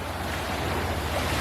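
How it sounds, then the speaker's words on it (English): Gulf of Mexico waves washing onto the sandy beach at Biloxi, a continuous wash of surf with low rumble and some wind noise on the microphone, steady and close. "The water washes off your footprints right away."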